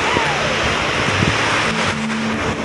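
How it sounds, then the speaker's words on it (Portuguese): Ocean waves breaking on a beach at Algodões on the Maraú Peninsula, Bahia, a steady broad wash of surf with wind noise, while someone speaks briefly over it. "O quebrar das ondas, ó."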